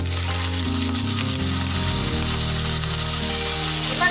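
Potato and pointed gourd pieces hit hot oil with toasted cumin, a steady sizzle and crackle of frying that carries on evenly without talk.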